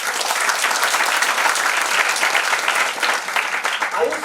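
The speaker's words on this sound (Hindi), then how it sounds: "ताली बजाओ इसके लिए।" Sustained audience applause at a meeting for a product presentation, steady and dense clapping from a crowd throughout, with no distinct speech above it.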